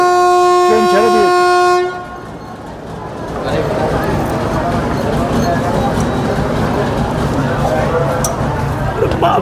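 A train at Sainthia Junction on the Sahebganj loop line blows its horn in a long, loud sustained tone, then pulls away with a steady rumble and clatter that holds to the end.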